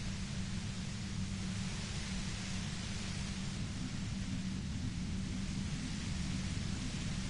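Steady broadband static hiss from the video game Disco Elysium, a dense white-noise wash that stays loud and unchanging throughout, with no voices over it.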